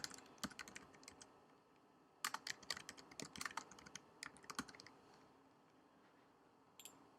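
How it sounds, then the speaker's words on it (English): Rapid bursts of keystrokes on a computer keyboard, close and faint, in irregular clusters with short pauses, while filling in a company name on a business email template. "quickly type this in"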